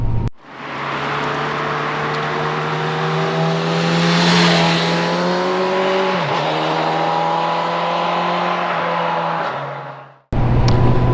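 A 2022 Honda CB1000R Black Edition motorcycle with a four-cylinder engine revs loud and close in a sustained high drone, dipping briefly midway before it cuts off near the end.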